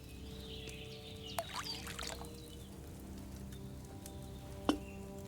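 Wine poured into a cauldron in the video game Kingdom Come: Deliverance II, a steady liquid pour over low background ambience, with two sharp clinks standing out.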